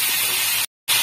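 Sliced okra frying in a pan over a medium flame, giving a steady, close, broadband sizzling hiss that cuts out abruptly for a moment before resuming.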